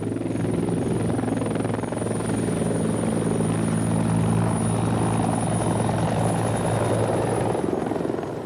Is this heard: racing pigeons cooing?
no